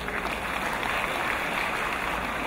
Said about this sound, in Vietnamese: Xin đề nghị quý vị đại biểu cho một tràng pháo tay chúc mừng Trường Trung học cơ sở Ngọc Thụy